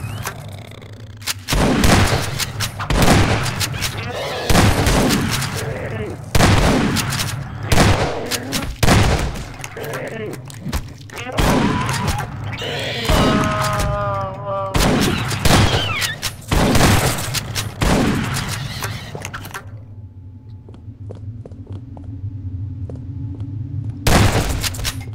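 Dense video game gunfire fills the clip, with rapid bursts and heavy booming shots almost without pause, loud and close, and a brief quieter stretch near the end before more shots.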